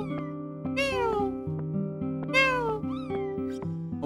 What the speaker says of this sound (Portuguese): Olha o gatinho.